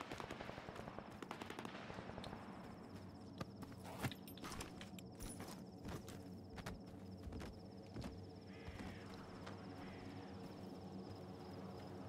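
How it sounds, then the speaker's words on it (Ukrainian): Quiet, far-off bursts of rapid gunfire crackle intermittently against a low steady hum, with faint footstep-like taps, in the video game STALKER 2: Heart of Chornobyl. "Десь там стрілянина вдалі."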